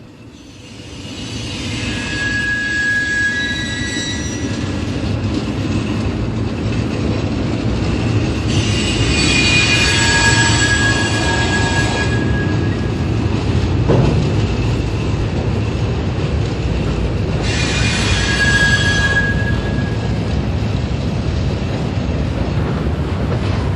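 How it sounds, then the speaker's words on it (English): A former C&O SW9 switcher locomotive on the Staten Island Railway, now Susquehanna number 120, rumbles loudly and steadily close by as rail cars roll, with high wheel squeals rising and fading several times. "The usual motive power on the Staten Island Railway is former C&O SW9 switcher number 5091, now Susquehanna number 120."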